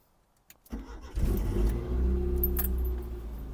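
Keys jingle, then a starter cranks and an old ZAZ Tavria pickup's engine catches and settles into a rough, steady idle close by.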